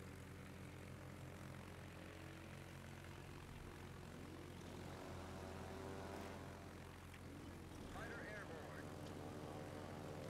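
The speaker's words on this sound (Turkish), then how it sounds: "Bu arada ben şu uçakları takip ediyorum." Propeller aircraft drone steadily overhead in the naval battle game World of Warships, a constant low engine hum with a faint rising whine near the end, heard quietly under game sounds.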